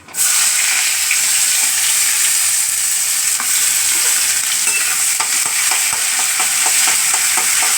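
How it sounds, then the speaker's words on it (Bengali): Onion and green chilies drop into hot oil tempered with nigella seeds for a fish curry, bursting into a loud, steady sizzle that continues, with faint stirring ticks and no talking. "কালো জিরে ফোড়ন দিয়ে পেঁয়াজ কাঁচা লঙ্কা এই যে দিয়ে দিলাম"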